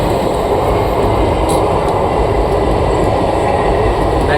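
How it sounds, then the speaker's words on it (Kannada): A train rumbles loudly and steadily past a railway crossing in Alleppey, Kerala, its close, continuous roar filling the scene with no voices. "ಬಂತು ಟ್ರೈನ್ ಬಂತು ನೋಡ್ರಿ ಹೆಂಗೆ ಟ್ರೈನ್"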